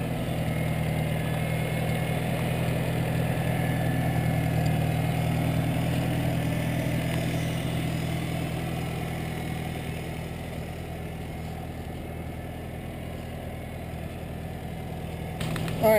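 A white Farmall Cub tractor engine idling outdoors, a steady low mechanical drone with even, unchanging rhythm, moderately close and running alone without talk.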